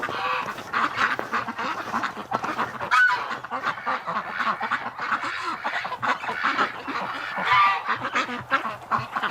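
Flock of ducks honking and quacking almost nonstop while feeding on alfalfa-rich hay near a farm shed in winter, loud, close and overlapping with no talk.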